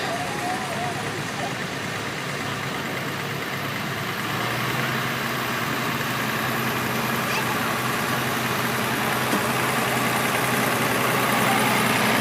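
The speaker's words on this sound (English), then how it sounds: "Ray Boone out of Aberdeen still uses this Farmall 1206 from 1967." A turbocharged 1967 Farmall 1206 tractor idles at a parade, a steady low engine rumble running throughout under a noisy outdoor crowd with people talking nearby.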